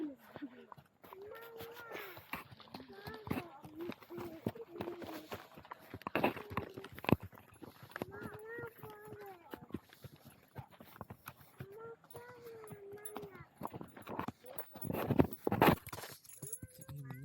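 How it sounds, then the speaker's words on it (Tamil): Horses clip-clopping along at an eco-tourism landscape spot in Tamil Nadu offering horse rides, a run of sharp hoof knocks scattered through the clip under frequent nearby speech. "இப்போ தான் குதிரையெல்லாம் போயிட்டு இருந்துச்சு"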